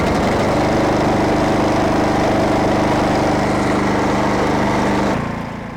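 Snow blower engine with electric start, pull-started by hand in heavy snow, runs at a loud, steady roar close by, then drops off near the end.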